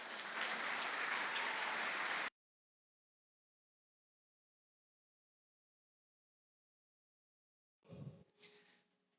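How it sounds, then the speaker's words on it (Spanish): A church congregation breaks into loud, dense applause for about two seconds, then cuts to silence, with a brief muffled rustle and noise near the end. "Denle un aplauso al Señor."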